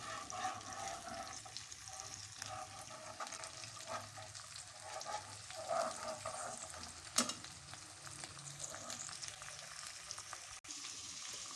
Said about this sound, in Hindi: ऑयल में अच्छे तरीके से भून लें बिल्कुल।